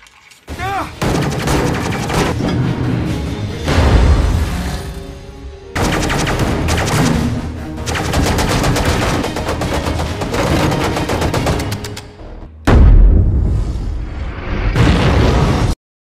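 Heavy gunfire and a fuel depot explosion erupt during an enemy assault at a fuel warehouse: loud, dense, continuous blasts and rattling bursts that break off briefly twice, then surge again with a deep booming hit.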